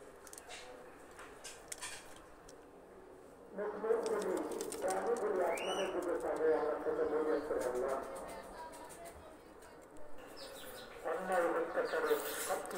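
Oman pigeons cooing nearby in throaty, repeated bursts, with a quiet stretch between calls and some faint chirps and background noise.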